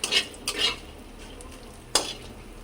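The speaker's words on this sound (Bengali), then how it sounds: "প্রথমে দিয়ে দেবো বড়িটা দিয়ে হালকা করে ভেজে নেবো।" Lentil dumplings (bori) frying lightly in oil in a wok, with a few short bursts of stirring and sizzling close by, then a sharp scrape of a utensil against the pan.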